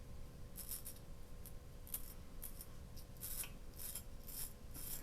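A razor scraping across facial stubble while shaving: a series of short, crisp rasping strokes in an uneven rhythm, close up and otherwise quiet.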